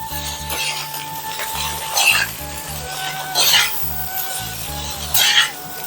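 Chicken noodles being stirred with a utensil in a frying pan, scraping strokes that swell in bursts over a steady sizzle and hum, with a faint voice underneath.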